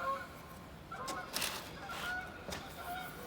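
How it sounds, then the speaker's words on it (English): Real ducks on a lake: faint, quiet honking calls at scattered intervals, somewhat distant, over a soft outdoor background. "there's real ducks on the lake in the background."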